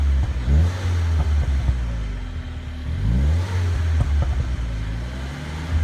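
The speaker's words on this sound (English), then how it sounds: "It's kind of like a little pop and burble kind of sound." A 2013 MINI Cooper S Coupe in sport mode revs in rising and falling waves, its exhaust crackling with quick pops and burbles, heard close and loud without talk.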